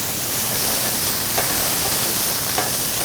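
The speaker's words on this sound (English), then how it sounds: "I'm just going to just take this and just hit it with a little bit of white wine here" White wine hits a hot sauté pan with chicken breast, giving off a steady, loud hiss and sizzle of steam that holds evenly throughout, with faint crackles.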